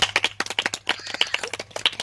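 A small group of people clap rapidly and unevenly for contestants at a men's rangoli competition, dense close hand claps overlapping in a short burst.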